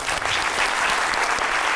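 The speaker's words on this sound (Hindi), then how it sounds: "तालियां" Studio audience applause on a Pakistani television talk show, a dense, steady wash of clapping that holds evenly throughout, heard alone with no voices.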